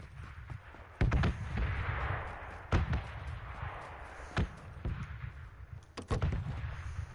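Gunfire in PUBG on PS4 Pro, heard as several sharp, separate shots spaced irregularly over low background rumble.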